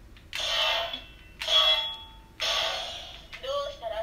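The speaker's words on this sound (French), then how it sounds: "quand tu fais le bruitage d'épée qui frappe" A Proplica Excalibur 1/1 replica toy sword from Fate/stay night Heaven's Feel by Anplex Bandai plays three sharp, hissing metallic strike effects in steady succession through its small speaker, followed by a brief electronic voice line.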